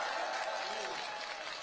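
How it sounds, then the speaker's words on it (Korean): Crowd applause at a Korean election campaign rally follows the introduction of a party official, a steady wash of clapping heard somewhat distant and fairly soft, with a faint tone and some voice mixed in. "큰 박수 부탁드립니다"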